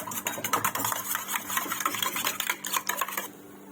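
A mixture for chicken noodles, seasoned with a pinch of salt, is beaten briskly in a bowl, giving a fast, even run of light clicking taps up close that stops just before the end.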